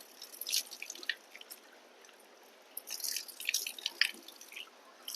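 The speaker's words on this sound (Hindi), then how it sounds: "नाक साफ करने के बाद पानी लेके अपने चेहरे को धोएंगे।" Water from a running tap splashes and trickles during ablution as hands scoop it to wash the face, with soft irregular splashes and drips close by.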